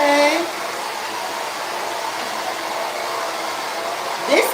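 A Conair Yellowbird hair dryer blows with a steady, close whoosh of airflow for several seconds, the tone holding even until a brief rise at the end.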